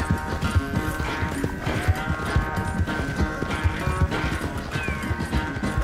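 Hooves of an Arabian horse galloping in Red Dead Redemption 2 make a steady, rapid clip-clop beat that runs without a break under dense game music and ambience.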